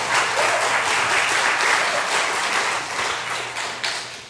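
Church congregation at a Sunday service applauding, a loud, steady wash of many hands clapping together in a large room that tapers slightly toward the end.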